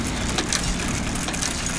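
A bicycle chain makes a continuous dense rattling, grinding clatter as a stand-in for a meat slicer, steady and close without pauses.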